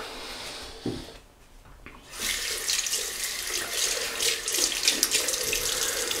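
Cold tap water runs steadily into a sink after a wet shave with a 1940s GEM Flip Top G-Bar single-edge razor, starting after a brief pause and holding a loud, continuous splashing flow to the end.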